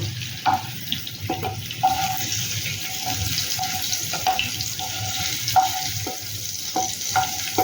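Potatoes and pointed gourd sizzle in oil in a pan, a steady close crackling fry broken by repeated scraping and stirring strokes with a utensil, no voices.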